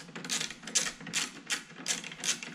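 A screw being tightened on a VW T5 door mirror, a close run of quick repeated ratcheting clicks in short bursts with brief pauses between them.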